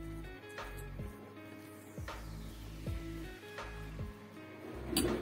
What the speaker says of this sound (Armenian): պատառաքաղով տրորելու եմ